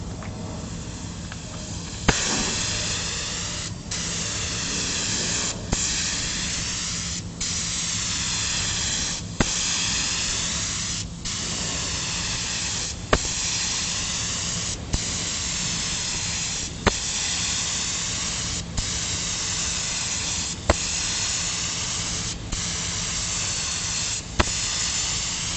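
A DeVilbiss 1.3 spray gun sprays clear coat at about 40 psi onto an OBS truck, a loud steady hiss that comes in repeated passes and stops briefly with sharp clicks between them.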